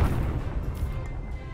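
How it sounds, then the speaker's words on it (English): Cannon turret fire in the video game Cannon Brawl: a single deep booming blast with a low rumbling tail, fairly faint and muffled, with no speech. "that was a fast level 3 cannon turret"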